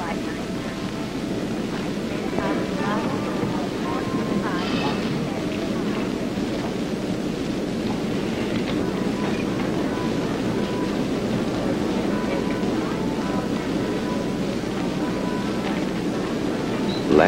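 Steady, loud roar of a Braniff International airliner from a 1960s-70s commercial, a continuous broadband rumble that holds unchanged throughout, with faint traces of voices underneath.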